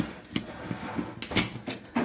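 A knife slicing through a crispy baked Dollar Tree pizza, giving a few quiet, sharp crunching crackles spaced irregularly, close up and soft.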